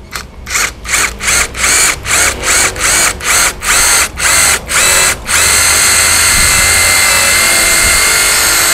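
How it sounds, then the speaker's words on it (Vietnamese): A power drill with a number 8 bit bores into thick, dense concrete, first in a rapid series of loud pulsing bursts, then a continuous high-pitched grinding whine, close and unaccompanied by talk. "Mũi số 8 mình sẽ khoan với cái miếng bê tông mà bê tông dày, bê tông đặc này."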